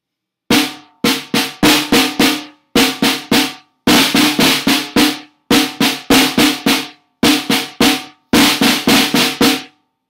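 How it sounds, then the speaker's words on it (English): A snare drum plays rudiments, including flams and buzz rolls, in sharp, loud bursts of quick strokes separated by brief pauses, clear and close with no talking. "snare drum and drums have something called rudiments"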